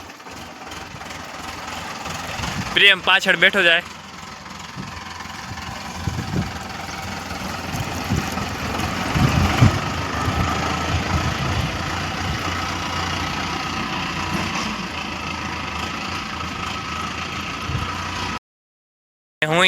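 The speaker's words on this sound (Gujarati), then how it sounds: "જો ટ્રેક્ટર ચાલુ થઈ ગયું ને હવે જાય પડામાં" A tractor engine runs at a steady low idle on a farm, a continuous near rumble with a brief louder burst early on, and a voice speaks once over it.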